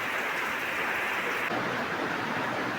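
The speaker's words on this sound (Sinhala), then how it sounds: "ඔන්න ඉතින් ආයෙත් අපිට වහින්න පටන් ගත්තා." Steady rain falls in a rural farming setting, a dense, even hiss of close, moderately loud noise that continues without pause and with no voices.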